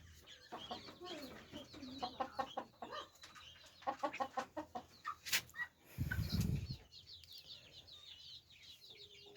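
Cochin chickens on a farm cluck in repeated short bursts at close range, joined by a brief flurry of flapping wings and a low rustle partway through.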